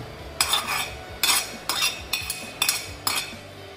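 A spoon stirs chorizo sausage pulao in a pot, giving six or seven distinct close scraping clinks at a steady, unhurried pace over a low background hum, with no talking.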